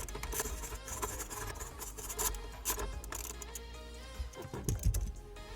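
Deep socket ratcheting out the battery strap retaining bolt on a 2018 Jeep Grand Cherokee auxiliary stop/start battery, with steady scraping, clicking tool noise and metallic rubbing up close, busy and continuous.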